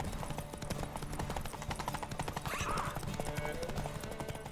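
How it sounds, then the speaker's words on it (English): Horse galloping in The Witcher 3 horse-racing minigame, a fast, steady patter of hoofbeats running throughout under game music and a talking voice. "ultimately this is still just the horse racing minigame"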